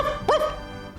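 A single short electronic bark from a dog in the Game Boy Advance game Golden Sun: The Lost Age rings out with a bright, chirpy pitch sweep over steady background game music.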